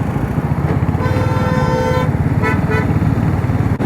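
Road traffic with trucks and cars passes during a night motorbike ride near Amravati heading toward Pinjore: a loud, continuous engine roar with a sustained vehicle horn blast and a couple of shorter honks.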